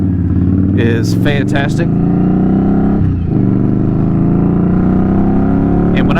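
A motorcycle running a Tier 1 tune hums with a loud, steady engine note whose pitch creeps upward as revs build, while someone talks briefly over it near the start.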